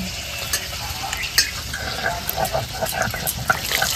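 Snakehead fish frying in a pan, a steady close sizzle with bubbling oil crackle and occasional stirring or scraping touches, fairly loud, with no voices.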